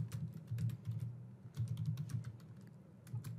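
Keys on a computer keyboard are typed in quick irregular bursts, close and clear with brief pauses, with no voices.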